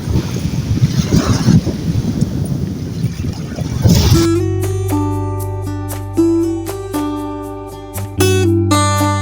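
Strong seaside wind buffets the microphone for about four seconds as a loud, rumbling roar, then cuts off abruptly into steady tonal sounds.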